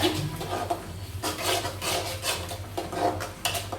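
Onions and green chillies are sautéed in a pan, with a spatula scraping and stirring in steady, repeated strokes, close and moderately loud with no talking.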